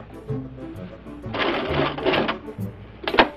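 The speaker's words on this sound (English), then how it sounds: "And then I'm going to sew through the elastic." Sewing machine stitching through elastic, a close mechanical whir running in short bursts of a second or so, with quiet pauses and handling noise between them.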